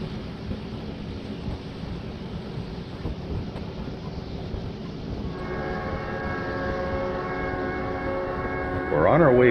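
The California Zephyr passenger train rumbles steadily through Tunnel 36 with a constant enclosed roar, and a tonal horn-like hum rises near the end.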